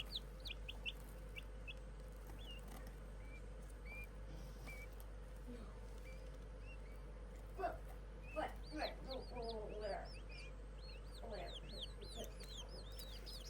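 Backyard chickens cluck and chirp close by, with several baby chicks peeping in short rising bursts over a low steady hum; no speech is heard.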